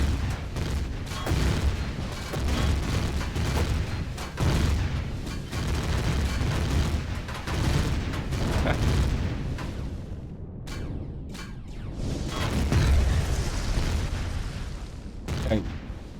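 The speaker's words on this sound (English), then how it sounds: "We destroyed their base, but it literally blew apart completely" An enemy base in Empyrion Galactic Survival blows apart, giving a long run of heavy booms and crackling bursts that roll one into another, loud and near, with a brief lull before a final surge of blasts.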